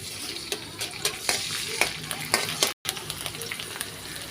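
Cinnamon, cardamom and ginger garlic paste frying in hot oil with a bay leaf, a steady close sizzle broken by sharp stirring scrapes and ticks, with one brief dropout partway through.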